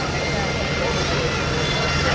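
A UH-60 Black Hawk military helicopter with a single main rotor and twin gas turbine engines departs at an air show, giving a steady, loud broadband turbine roar and rotor wash that fills the whole span without a break.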